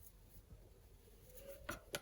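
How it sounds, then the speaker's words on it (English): Scissors cutting fabric while an Awolowo cap is sewn, a few quiet snips that sharpen into two distinct close cuts toward the end over faint room noise. "This midpoint here is where I will cut to turn it out."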